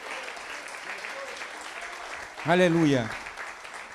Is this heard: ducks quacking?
no